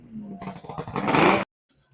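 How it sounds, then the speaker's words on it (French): A custom-built Martin 750 motorcycle arrives at a motorcycle rally in Chanteloup-en-Brie, its engine revving up briefly and loudly nearby before cutting off abruptly into near silence. "une des motos de l'émission est arrivée"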